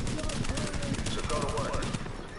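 Shotgun fire in the video game The Division, heard as a dense burst of rapid, loud gunshots close up, with a voice faintly underneath.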